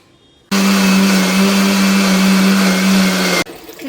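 A kitchen mixer grinder grinds masala with chilli powder and water for mutton sambar. It switches on with a loud, steady whirring drone that runs for about three seconds, then cuts off abruptly.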